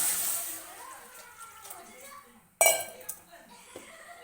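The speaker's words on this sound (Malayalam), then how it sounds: "വെള്ളം ഒഴിച്ച് കൊടുക്കുന്നുണ്ട്" Water is poured from a tap into a cooking pot holding pumpkin pieces for a home-style pumpkin curry. A soft rushing pour fades out, a sharp metallic clink follows, and a voice speaks quietly over it.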